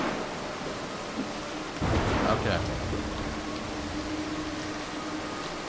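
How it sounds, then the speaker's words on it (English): Steady rain pours in the video game Mark of the Ninja, with a sharp thunder crack rolling out midway during a storm; a voice speaks briefly over it. "This is the storm from hell, by the way."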